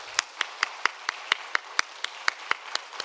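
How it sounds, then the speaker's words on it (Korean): Congregation applause during a Wednesday evening worship service at a Korean church, a steady rhythmic clapping in unison, evenly spaced beats about four per second, moderately loud and close, with no talking over it. "우리 박수로 격려하도록 하겠습니다"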